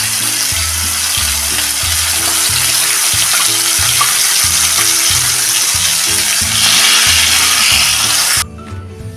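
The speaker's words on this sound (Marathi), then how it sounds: "बघा, आता तेल गरम झाले, त्यात आता हा मसाला टाकून घेऊया सगळा।" Masala for a cashew curry sizzles steadily in about three spoons of hot oil in a pan, a loud, continuous frying hiss over background music, cutting off abruptly near the end.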